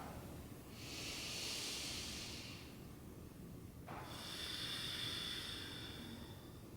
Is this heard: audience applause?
no